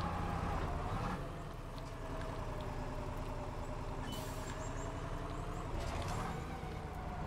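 Ural truck engine in the SpinTires off-road driving game, a low steady diesel rumble straining continuously and close, with a brief hissing burst partway through.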